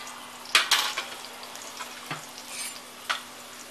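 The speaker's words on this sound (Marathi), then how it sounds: "त्याच्यामध्ये हे मीडियम साइज 3 कांदे उभे कापून घेतलेले आणि पाव चम्मच हिंग," Three medium onions sliced lengthwise and a quarter spoon of asafoetida fry in a pan with a quiet, even sizzle. A spatula knocks and scrapes against the pan in several sharp clinks, close by and with no talking.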